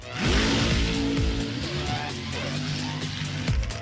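A car engine revs hard as the driver floors it on a muddy track, loud and sustained, with rising and falling pitch sweeps and brief surges of acceleration.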